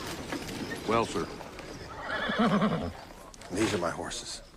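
Horses whinny twice, long wavering neighs with a pause between them, set against background murmur and faint hoof movement.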